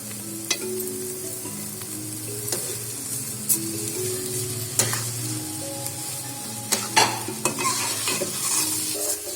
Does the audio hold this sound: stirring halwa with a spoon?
yes